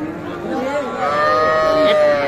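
Drawn-out calls of young bulls rise over a low background murmur at a cattle market, loud and close, with a couple of overlapping bellows.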